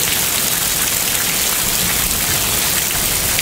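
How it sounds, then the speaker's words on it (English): Heavy rain pours steadily, a dense, continuous hiss of water drumming on surfaces with no letup. "We haven't had this kind of rain in a while."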